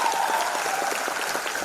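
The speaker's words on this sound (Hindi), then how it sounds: "एक बार जोरदार तालियां होनी चाहिए स्मार्ट वैल्यू" Audience at a Smart Value recognition program event applauding the company, a soft, diffuse patter of many hands clapping at moderate distance, fairly even throughout.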